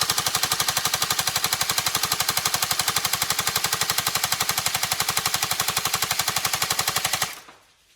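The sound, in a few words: Tokyo Marui MK46 NGRS airsoft electric gun firing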